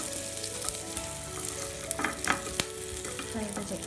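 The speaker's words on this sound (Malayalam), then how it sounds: "ഇനി നമ്മൾ ഫ്രൈ ചെയ്ത ചിക്കൻ ഇതിലേക്ക് ഇടണം." Fried chicken pieces with curry leaves crackle in hot oil, a close, busy sizzle with sharp pops and spatters running throughout.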